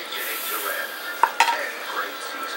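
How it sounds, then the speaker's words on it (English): Beef going into a hot pot and being stirred while braising short ribs in dry Malbec, a steady close sizzle with a couple of sharp utensil knocks against the pot midway. "we're going to add in our beef now"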